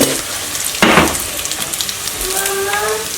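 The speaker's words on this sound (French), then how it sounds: "On va laisser les grains griller un petit peu." Raw rice grains toast in a hot pan before salmon and curry are added, hissing and crackling with a steady dry sizzle, broken by a sharp stir-like burst and a faint tonal squeak near the end.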